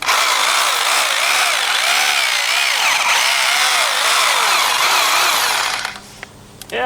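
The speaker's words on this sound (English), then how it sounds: "I will actually pre-drill this and then screw them into the holes." A power drill whines steadily as it pre-drills holes into soft clay ground for a wooden inground pool wall, a loud continuous motor drone with a wavering pitch that cuts out near the end.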